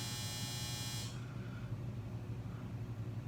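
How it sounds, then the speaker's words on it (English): A clothes dryer buzzer drones loudly and steadily for about a second, then stops, leaving a low background hum. "I'm sorry, y'all, that's my dryer."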